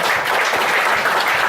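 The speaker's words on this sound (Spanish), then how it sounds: "Démosle un aplauso al Señor" A church congregation applauds the Lord during a Spanish-language service, a loud, even wash of clapping filling the short moment with no pauses.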